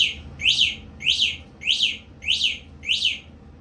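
An EMMO ADO e-bike remote's locate function sets off six evenly spaced, shrill electronic chirps, each a bright descending-and-rising tweet about half a second apart, loud and clear over a faint background hum.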